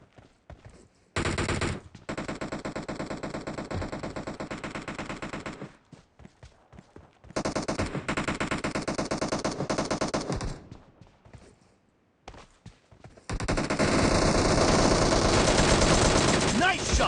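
Gunfire in the mobile battle game PUBG Mobile: loud bursts of automatic fire in three long stretches separated by brief pauses, the last burst the heaviest, with no talking.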